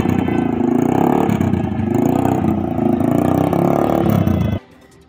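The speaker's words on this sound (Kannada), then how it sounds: "ಬೈಕ್ ಸೈಲೆನ್ಸರ್ ಮೋಡಿಫೈ ಮಾಡಿ ಕರ್ಕಶ ಶಬ್ದ ಮಾಡುತ್ತಾ ಅಪಾಯಕಾರಿ ರೀತಿಯಲ್ಲಿ ಬೈಕ್ ರೈಡ್ ಮಾಡುತ್ತಿದ್ದರು" Motorbikes with modified silencers roar loudly and continuously on a city street in Dharwad, a harsh, rasping engine blare held for several seconds before cutting off abruptly.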